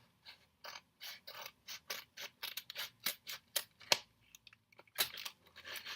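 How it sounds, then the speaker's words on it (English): Scissors snipping open a squishy toy package, a rapid run of crisp close metallic cuts in an uneven rhythm, loud against otherwise quiet. "I have my handy dandy scissors here, and yeah, I'm just gonna cut it open."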